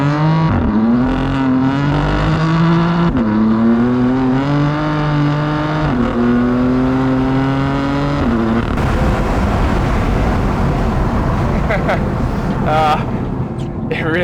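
BMW M4 engine with the windows down, revving hard and accelerating through gears on the paddles: three rising pulls each cut by a quick upshift, then a rougher, noisier cruising roar, loud and close.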